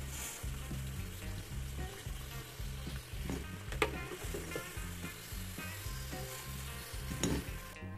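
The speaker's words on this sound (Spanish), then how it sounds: "Por acá tengo una ollita con suficiente aceite porque vamos a freír los plátanos en fritura profunda." Plantain pieces deep frying in a small pot of oil give a steady close sizzle with crackling bubbles and occasional stirring, without talk.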